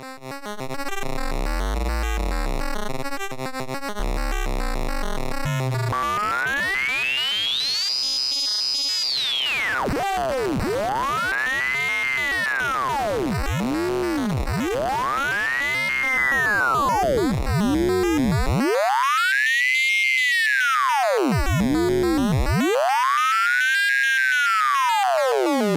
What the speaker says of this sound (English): At these lower rates, you get these pretty cool amplitude modulation style effects.